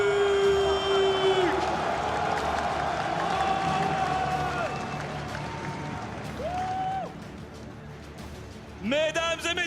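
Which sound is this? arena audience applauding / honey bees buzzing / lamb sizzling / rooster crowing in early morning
arena audience applauding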